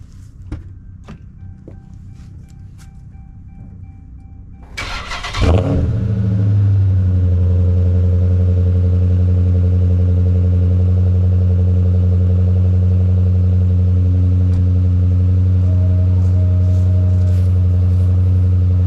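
A 2013 Dodge Super Bee with a muffler delete cranks and fires after a few quiet seconds of small clicks, then settles into a loud, deep, steady rumble close by that runs to the end.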